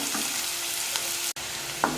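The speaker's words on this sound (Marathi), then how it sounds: "आता 1 मिनिट झालंय, आपला कांदा थोडा परतलाय." Onion sautés in a hot pan with garlic greens for zunka, producing a steady close sizzle with brief stirring scrapes and no talking.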